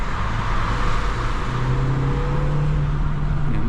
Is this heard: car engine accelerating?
yes